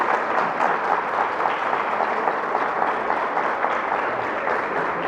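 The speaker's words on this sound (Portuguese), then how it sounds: "Vamos aplaudir essa verdade?" A congregation at a Catholic catechetical gathering breaks into steady, dense applause that fills the room at a loud, even level for several seconds with no voices on top.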